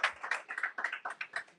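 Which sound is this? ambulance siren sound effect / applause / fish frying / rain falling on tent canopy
applause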